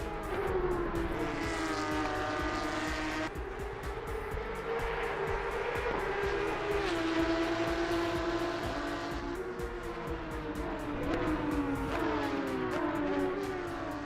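A Toyota Supra drifting in the racing game Assetto Corsa EVO: a loud engine revs, holding high and shifting pitch continuously, with tire noise underneath and no talking.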